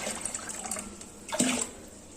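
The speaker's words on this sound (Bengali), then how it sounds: "আমি একটা ছোট বালতিতে রোজকার ব্যবহারের জলটা তুলে নিচ্ছি" Water scooped from a large bucket into a small bucket for daily use, a soft wet splash and pour rising near the middle, close and brief with a faint watery background.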